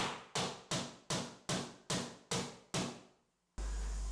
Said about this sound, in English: and knock the nail into the wall.